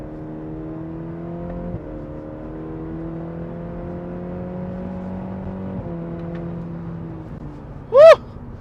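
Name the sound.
Cadillac CT4 accelerating and shifting gears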